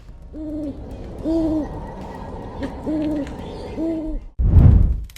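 An owl hoots in a slow series of four paired, tonal calls spaced about a second apart, fairly close and clear over a faint background hiss, followed by a sudden loud broadband burst at the end.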